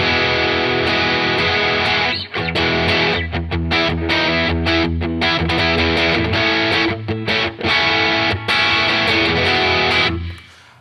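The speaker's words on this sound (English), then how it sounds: "turn on the heavier distortion or the higher gain on the amplifier" An electric guitar runs through an amplifier set to heavier, high-gain distortion, playing loud, saturated sustained chords with brief gaps between strums and ringing to a close near the end.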